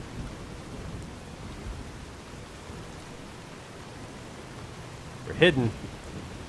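Steady rain hisses in Fallout: New Vegas and a brief crack of thunder sounds near the end. Someone speaks briefly over the weather.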